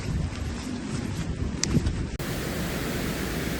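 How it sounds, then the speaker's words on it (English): Continuous broad rushing of a river near Hawes, loud and steady, with a brief thump and a sudden shift in tone partway through. "the noise you can hear is the river in the background that Helen's just taken a picture of"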